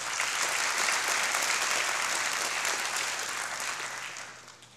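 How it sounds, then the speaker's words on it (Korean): Sustained applause from a large crowd welcoming guests at POSTECH's 25th anniversary ceremony, dense and steady, fading out toward the end. "참석하신 내빈들을 위해 다시 한번 큰 박수로 환영해 주시기 바랍니다"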